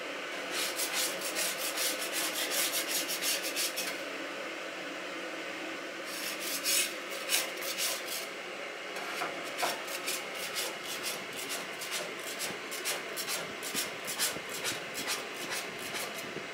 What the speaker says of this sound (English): We done broke out the steel wool